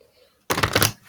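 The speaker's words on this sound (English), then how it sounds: "One more shuffle, one more shuffle." A quick riffling burst of cards being shuffled, a brief fluttery rattle after a moment of near silence.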